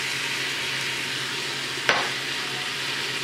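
Stew meat being stirred in an Instant Pot with salt and pepper, a steady sizzle running throughout with one sharp scrape of the spoon against the pot midway.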